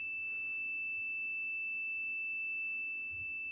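A buzzer wired into a small perfboard polarity-checker circuit built with two LEDs gives a steady, continuous high-pitched electronic tone that holds without a break.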